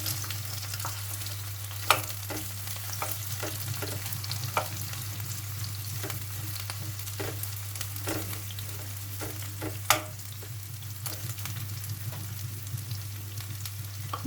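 Chopped onion sautés in a pan with a steady, soft sizzle, broken by occasional sharp clicks and scrapes of stirring under a low constant hum.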